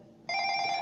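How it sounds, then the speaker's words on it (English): A doorbell rings once indoors, a short bright electronic tone that starts abruptly and holds steady, fairly quiet and alone. "the sound that you hear is actually the ringing of my doorbell"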